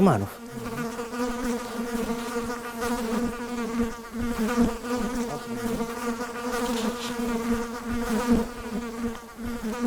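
Mosquitoes buzz close by on an autumn fishing trip, a continuous high whining drone with a steady pitch that swells and fades as the insects move around.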